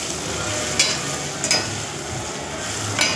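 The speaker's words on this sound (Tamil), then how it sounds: "இப்போ நம்ம வேக வச்சு கட் பண்ணி வச்ச நெல்லிக்காயும் அது கூடயே போட்டு நல்லா ஃப்ரை பண்ணிக்குவோம்." Boiled, cut amla (Indian gooseberry) fries in hot oil with spices, a close, steady sizzle broken by a few sharp spatula scrapes.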